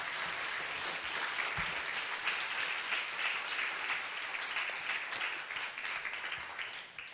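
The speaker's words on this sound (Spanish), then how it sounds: "Denle un aplauso al Señor" A church congregation claps together after a sermon. The applause is steady and continuous but fairly quiet and distant, then thins slightly at the close.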